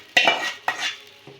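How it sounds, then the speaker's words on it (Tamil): Tempering poured over Palwadi rice and stirred in with a metal spoon, giving two sharp clinks and scrapes against the vessel, then a softer tap, close and clear with no talk. "தாளித்து கொட்டியாச்சு"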